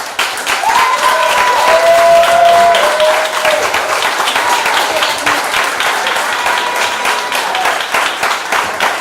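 An audience at a youth organization's annual banquet applauds steadily for several seconds, a dense, even wash of clapping with a faint voice briefly over it.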